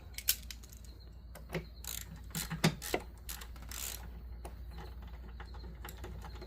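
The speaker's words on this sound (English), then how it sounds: "Go ahead and speed ratchet." Ratcheting clicks from a speed ratchet loosening the oil drain plug on a 2012 Chevy Malibu, heard as scattered light clicks and metallic taps over a steady low hum, fairly quiet and close.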